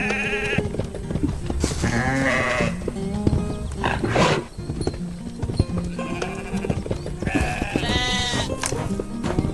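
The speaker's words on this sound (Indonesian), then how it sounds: "Domba-domba putih sedang berdiri di dekat kandang logam hijau di atas lantai oranye yang hangat." White sheep in an animated farm scene bleat repeatedly beside a green metal pen on a warm orange floor, several overlapping calls rising and falling over a busy, steady background with no talking.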